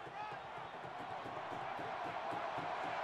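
Stadium crowd roaring in an NCAA Football 24 game of Texas vs Alabama, a steady broad wash of cheering throughout, with faint thumps and a commentator speaking over it.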